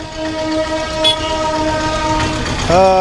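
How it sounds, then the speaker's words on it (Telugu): A train passes close by a railway level-crossing gate, its loud rumble carrying a sustained horn blast that swells near the end over a steady rolling clatter. "రైలు వెళ్ళిపోతుంది"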